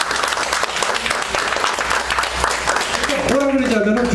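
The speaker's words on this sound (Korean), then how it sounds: "박수처럼 확실하게 치세요" A church congregation breaks into brisk, dense clapping that fills the room, with voices mixing in near the end.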